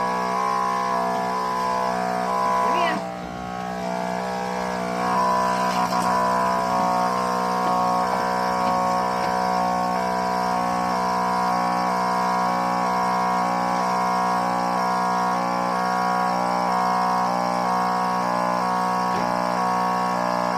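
A goat milking machine runs nearby in a morning milking routine, a loud steady mechanical drone with a strong pulsing hum that carries on unbroken, dipping only briefly near the start, with no talking.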